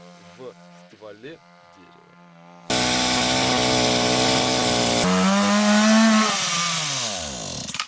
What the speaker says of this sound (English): cut vertical grooves in the tree trunk with a chainsaw